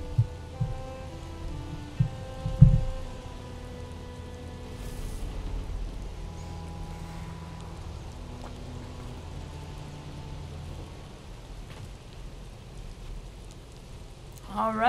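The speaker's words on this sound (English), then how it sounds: "it looks like we've made it to land, and it's raining" Steady rain falls in the video game Valheim, a soft continuous hiss under low ambient game music with a few knocks early on.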